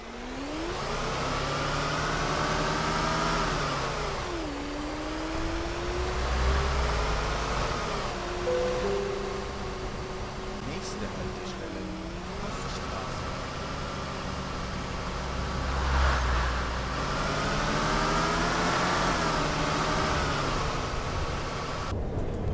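A bus with a six-cylinder turbo diesel engine and four-speed gearbox in the OMSI 2 driving simulator, heard from outside in snow, drones steadily with rising and falling revs as it pulls through gear changes.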